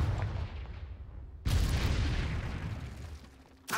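Confringo fire spell blasting in the Harry Potter and the Dark Arts video game, a sudden loud explosive burst with a rumbling tail over ambient game sound, followed by another sharp hit near the end.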